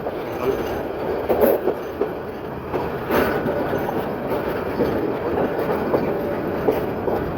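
A train rolls through Akhaura railway junction station with a continuous rumble and rhythmic clicking of wheels over the rails, heard up close with no talking.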